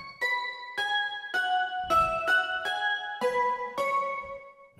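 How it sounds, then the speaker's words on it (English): A simple synthesized bell patch from a Kontakt wave-bells instrument in Ableton plays eight clear, evenly spaced struck notes with ringing harmonic overtones, stepping through a melody alone with no talk. "I use the wave bells and sounds like this."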